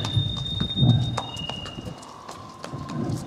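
A yearling filly walks at a racing yard's yearling parade, her hooves clip-clopping in a steady, close rhythm of sharp knocks.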